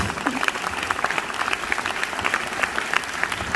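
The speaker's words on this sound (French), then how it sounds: "Vous pouvez applaudir Rod Blackhurst." An audience at a film festival Q&A in Deauville claps steadily and densely, a sustained round of applause filling the room with no pauses.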